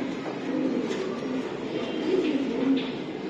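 A racing pigeon coos in soft, repeated low murmurs, close by and steady, with a faint hum of background noise.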